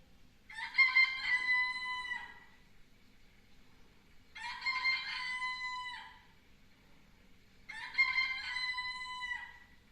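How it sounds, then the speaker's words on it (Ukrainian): A rooster crows three times at even intervals, each crow long and clear against a quiet background. "Так, це півник завітав до нас у гості."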